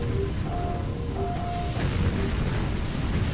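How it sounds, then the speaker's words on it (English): Dense, continuous rumbling explosions from the video game Quake: Scourge of Armagon, loud and booming with layered bursts and short electronic tones over the roar. "The explosions can damage you a bit."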